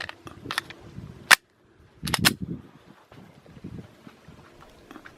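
Two sharp, loud gunshots from a Smith & Wesson Shield pistol fired outdoors in winter, a single crack followed about a second later by a quick double report, with wind noise and faint rustling in between.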